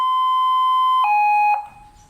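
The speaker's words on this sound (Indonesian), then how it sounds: "Ini ya suaranya kalau nggak salah ambulan ya." Patwal electronic siren on its ambulance tone, a loud steady wailing electronic pitch that steps down twice before cutting off, close and alone.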